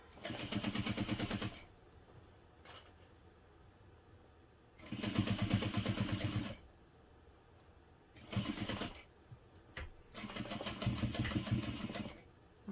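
A sewing machine runs in rapid bursts of backstitching across a bag's back pocket edges, several separate runs of a second or two, with quiet pauses and a faint click between them.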